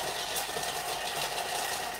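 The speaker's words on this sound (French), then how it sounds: "on va y aller à peu près 4 secondes vitesse 6 pour être sûr de hacher les champignons secs" A kitchen food processor runs at speed 6, chopping dried mushrooms, giving a steady, continuous motor whir with a grinding edge for about two seconds, close and unbroken.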